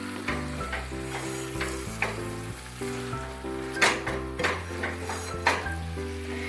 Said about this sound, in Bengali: এবার চিকেনটাকে ভালো করে মশলার সাথে মিশিয়ে নেব।